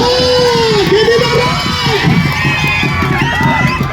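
Crowd at a traditional kushti wrestling bout between Mathura and Masur wrestlers cheering and shouting loudly for the winner, a dense sustained roar of many voices with whoops and children's shouts throughout.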